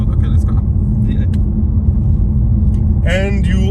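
Ford Mustang California Special V8 rumbles low and heavy at close range, a steady deep engine drone while a person talks over it throughout.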